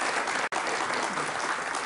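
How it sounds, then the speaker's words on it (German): Dense studio audience applause at a German TV talk show fills the whole stretch, steady and close, with a momentary dropout near the start. "Nichts Schlimmeres, als einem Kollegen den Applaus zu klauen."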